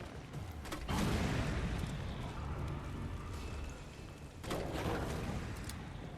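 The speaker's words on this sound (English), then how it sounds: "That explosion wasn't big enough to count?" A large explosion in Resident Evil 3, heard as a deep, loud rumbling burst that rolls on for several seconds, followed by a second surge of booming noise near the end.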